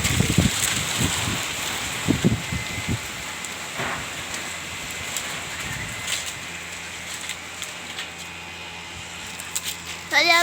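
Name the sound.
strong wind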